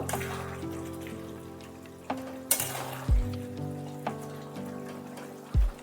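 Chicken keema with chickpeas simmers in a pan, gentle bubbling and spattering with a few spoon knocks and scrapes against the pan, close and fairly quiet.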